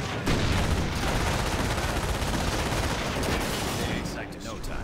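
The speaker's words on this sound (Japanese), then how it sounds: "これも十字砲火で制圧していきましょう" Dense crossfire in a Company of Heroes Normandy landing battle: sustained rattling machine-gun and rifle fire with scattered booms, loud and continuous throughout, easing slightly near the end under faint voices.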